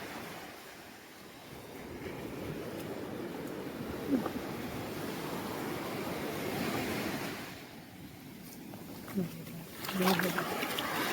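Sea waves wash continuously onto a beach around the listener's feet, a steady close surf roar with wind buffeting the microphone and some louder splashes near the end.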